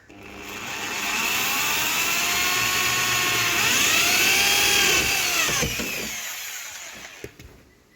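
A power drill driving a screw to fit a water bottle holder in a Maruti Eeco van whines steadily for several seconds, pitch shifting as it works, then winds down and stops with a few clicks.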